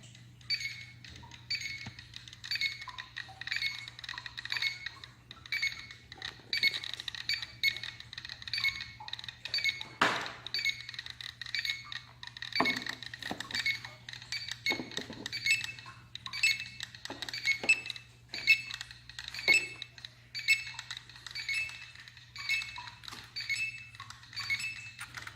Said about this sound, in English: So we now have a medley of alarms going.